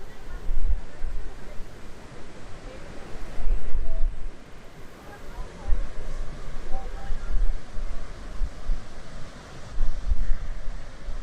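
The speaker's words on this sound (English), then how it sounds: "So much water." A heavy, continuous roar of Niagara Falls, broad and rushing, with wind gusts buffeting the microphone now and then.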